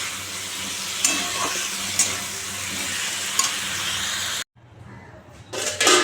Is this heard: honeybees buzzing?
no